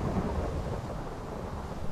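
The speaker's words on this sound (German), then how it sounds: "Und ein schönes Gewitter ist aufgezogen." Thunder rumbles low and steady through a Minecraft thunderstorm with rain, then a sharper low boom at the end.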